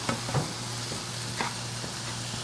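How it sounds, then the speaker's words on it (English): Hamburger meat frying in a pan on an electric stove, a steady low sizzle with occasional soft stirring scrapes, close and alone with no talking. "And Eric's doing a great job of cooking that hamburger"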